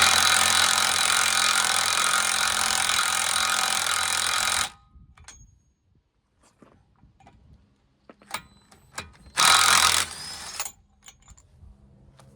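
Power tool, likely an impact gun, on a truck axle nut with a 36 mm socket, loud continuous rattling burst for several seconds, then quiet clinks and a second short burst.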